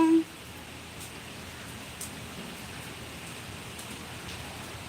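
Rain falling at a home in a village, a steady soft hiss of drops with faint scattered taps, continuous and moderately quiet.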